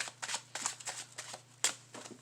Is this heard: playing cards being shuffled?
yes